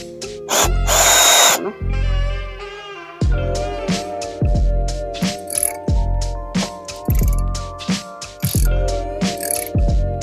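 A socket wrench ratchets mounting bolts tight on a garden hose reel, with repeated close, crisp clicking strokes in an uneven rhythm and short pauses between pulls.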